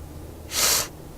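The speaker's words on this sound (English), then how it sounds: "I'm sorry, I don't mean to sniff. My nose is a little stuffy." A single short, sharp nasal sniff from someone with a stuffy nose, close and breathy, lasting under half a second in otherwise quiet surroundings.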